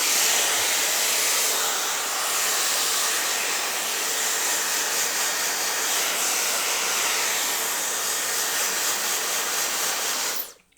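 Dyson Supersonic hair dryer runs on a higher fan setting, a continuous close, bright rushing whoosh of air that holds steady for about ten seconds before cutting off abruptly at the end.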